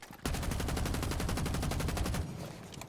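Thorn's gun with an extended barrel fires one sustained, loud, rapid automatic burst of about two seconds in Rainbow Six Siege, then stops abruptly.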